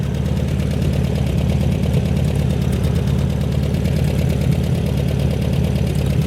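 A 1972 VW Super Beetle engine idles steadily and close by, a smooth, even mechanical rumble with a regular pulsing beat and no audible knocking, running alone without speech throughout.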